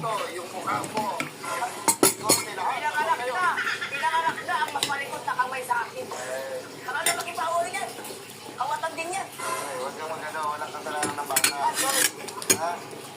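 Plates and bowls clink and clatter repeatedly as people talk over them, with scattered sharp ceramic knocks.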